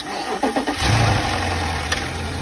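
A flooded BMW M850i engine cranks briefly, catches and settles into a steady low idle rumble, loud and close with no talk.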